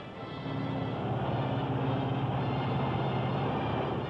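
Lockheed Constellation airliner cruising on a single engine with three propellers feathered, a steady low piston-engine drone and broadband cabin rumble, continuous and even throughout.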